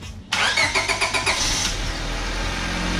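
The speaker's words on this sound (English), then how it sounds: "First thing to do is start your car and warm it up to operating temperature." A 4-cylinder Honda Civic engine cranks with a quick series of rhythmic starter pulses, catches, and settles into a steady idle, close and clear with no talk.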